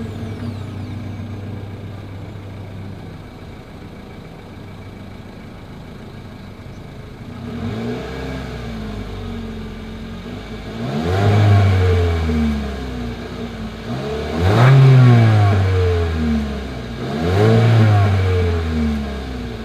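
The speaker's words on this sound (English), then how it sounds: "As always, here is that exhaust clip." A 2022 Mitsubishi Eclipse Cross idles low and steady, then its exhaust rises in three strong revving bursts, each climbing and falling back, heard close with no talking.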